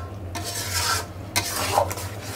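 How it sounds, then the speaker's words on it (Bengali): Potatoes being stir-fried in oil in a pan for a traditional North Bengal potato and fish dish, giving a steady scraping, stirring rasp with faint sizzle and a few louder spatula strokes, close and alone. "এই আলুটা এখন সুন্দর করে তেল ওঠা পর্যন্ত আমি কষাতেই থাকবো"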